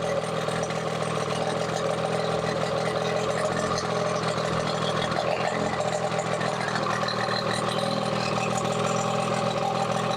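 1990 Yamaha Mariner CV30 30hp outboard motor running cold, out of the water: a steady, loud mid-pitched idle with an even buzzing drone and no change in speed, close up and with no talking.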